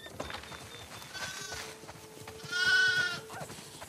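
Sheep in The Last of Us Part II bleating on a farm, two distinct quavering bleats a second apart over a quiet outdoor background, fairly close and moderately loud.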